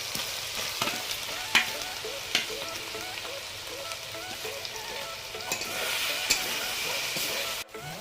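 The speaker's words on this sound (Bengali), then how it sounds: "আলুগুলো দিয়ে দিন।" Potatoes fry with spices in ghee in a pan, a continuous sizzle and hiss broken by repeated scraping stirs and occasional knocks of a utensil against the pan, with no voices.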